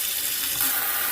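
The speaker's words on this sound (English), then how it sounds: "Got running water" Running water from a repaired kitchen sink faucet after a clogged filter was cleared, a brief bright steady hiss of flowing water, close and alone.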